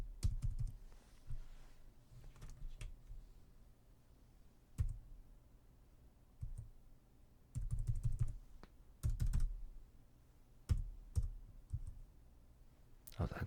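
Bursts of clicky typing on a computer keyboard come in short, uneven clusters with pauses between them, heard close and soft in a quiet room.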